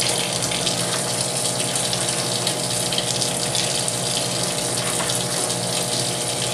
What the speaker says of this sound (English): Shut that water off.